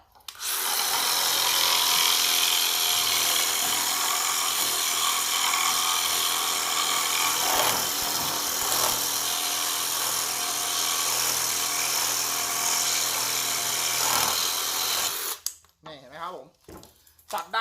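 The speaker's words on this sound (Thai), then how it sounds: "นี่นะผมนี่อันนี้คือ แผ่นนะผมแผ่นไม้ฝาเทียมนะผมเราต้องการตัดมุมเฉียงแบบนี้นะผม มันก็สามารถตัดได้นะผม" A Keyang power tool cuts an artificial wood siding board at an angle, a loud sustained rasping whine that runs steadily for about fifteen seconds before stopping, followed by a brief voice.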